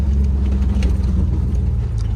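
The engine of a supercharged Toyota Hilux with an L67 swap revs under a little throttle, a loud, close, choppy low rumble sustained across the short stretch.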